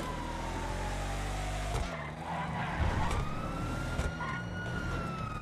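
Police car sirens wail in a GTA roleplay game chase, several overlapping sweeping tones rising and falling close behind over a low engine rumble, loud and continuous with no talking.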